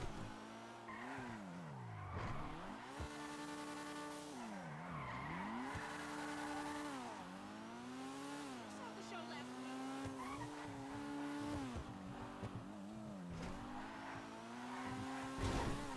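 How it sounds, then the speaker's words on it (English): Growler sports car from GTA V, modeled on a modern Porsche Cayman, revving through repeated gear shifts with screeching tire squeals, loud and close throughout over a steady engine drone. "This is the Growler, which is based on a modern Porsche Cayman."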